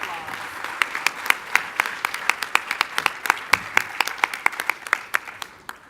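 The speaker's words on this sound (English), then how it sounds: "Give him a round of applause." An audience applauds for U.S. Representative Bobby Scott with steady, fairly close clapping. Distinct sharp claps stand out at a quick, even rhythm over a softer crowd wash throughout.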